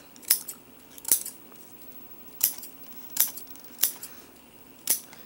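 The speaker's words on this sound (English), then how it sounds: "And then you're going to cut on your line like this." Scissors snip along a drawn line on a Jibanyan pinata ear, six crisp, close cuts spaced unevenly with short pauses between them.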